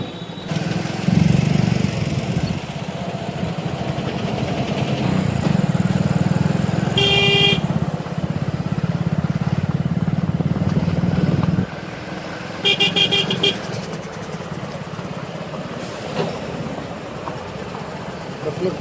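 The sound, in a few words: road traffic with motorcycles, cars and honking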